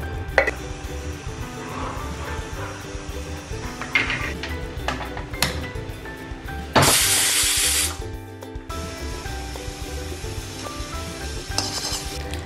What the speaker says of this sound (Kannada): ಒಂದು ಟೊಮೆಟೊನ ಗ್ರೈಂಡ್ ಮಾಡ್ತಾ ಇದ್ದೀನಿ